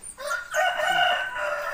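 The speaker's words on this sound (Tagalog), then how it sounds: "Ayan yung mga manok nila." Chickens at a rural Filipino home crow and cluck in a loud, close burst of overlapping calls, with no talking.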